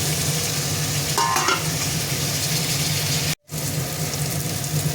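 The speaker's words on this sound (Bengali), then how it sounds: "মশলাগুলো কষিয়ে নেব একটু ভালো করে" Spices and fried potatoes stir-fried in a pan for a chana dal fritter curry, a loud steady sizzle and hiss close by with brief scraping, broken by one short dropout, with no talking.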